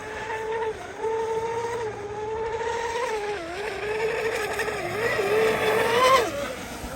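A radio-controlled Pro Boat Geico Zelos 36 speedboat, converted to a single motor, whines steadily at close range, its pitch rising and dipping as it revs over water, with faint noise beneath.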